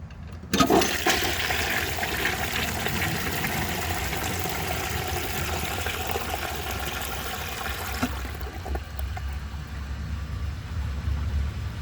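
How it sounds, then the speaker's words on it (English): A 1950s Kohler Trent toilet flushes with a sudden loud rush of water that roars steadily for several seconds, then drops to a softer trickle and refill hiss, close and alone. "I'm going to give that another flush and see if it can take it the rest of the way"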